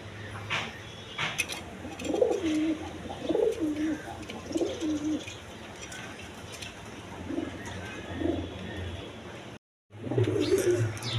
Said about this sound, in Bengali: এইখানে এক পেয়ার দেখার মতো গররা কবুতর, পুতুল গররা কবুতর।